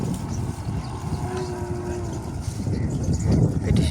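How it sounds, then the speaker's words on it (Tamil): Large bull cattle moo in a long, steady low call through dense lowing and shuffling of a herd gathered on a path, with more bellowing building toward the end. "பெரிய பெரிய நாம்பன் மாடுகள் எல்லாம் வந்து வண்டி இருக்குது பாருங்க."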